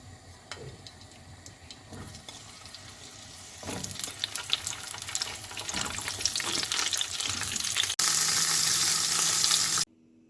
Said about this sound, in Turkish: Şimdi biberlerimi kızartıyorum.